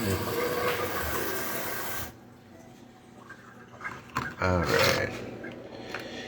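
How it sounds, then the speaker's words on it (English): Tap water running loudly in a steady gush for about two seconds, then cut off, followed by a few quieter clatters and rustles. "Running a little water."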